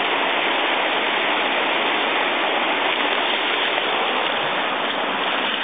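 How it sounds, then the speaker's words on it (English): Steady rushing of a mountain stream and cascading waterfalls over big rocks on a hillside with patches of snow, a loud continuous wash of water with no pauses, heard alone. "Whole bunches of waterfalls."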